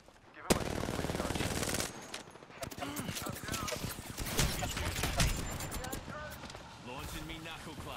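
Shooter video game gunfire, with rapid bursts of automatic shots and sharp single cracks over roughly eight seconds, mixed with someone talking and other game effects.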